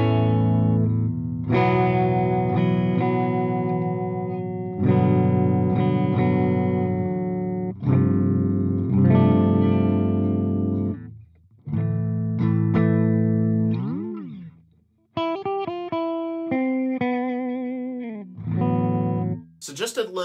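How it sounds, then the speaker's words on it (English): Electric guitar on a Gibson SG with the tone rolled back on both neck and bridge pickups, played alone as close, slightly softened chords and single notes with bends, sustained phrases separated by short pauses. "Let's roll back the tone a bit on both the neck"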